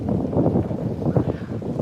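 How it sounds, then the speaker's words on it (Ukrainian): Strong wind at sea on the Baltic buffets the microphone in a steady low roar with gusty swells, no talking. "Вітер дуже сильний і прохолодний."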